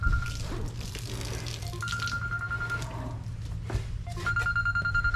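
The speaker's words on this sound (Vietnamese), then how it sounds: "Xin lỗi mọi người, nghe điện thoại khách hàng cái nha." A mobile phone rings with repeated electronic tone bursts on a cattle farm, the ringtone sounding in separate spaced pulses over a steady low background hum with no talking.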